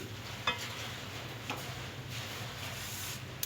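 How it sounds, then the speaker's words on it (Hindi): A spoon scrapes and stirs chaat masala spices roasting in a hot kadhai, a soft dry rustle broken by a few clinks of metal against the pan, low and close, with no talking. "ये देखिए मसाला हमारा जो है रोस्ट हो रहा है"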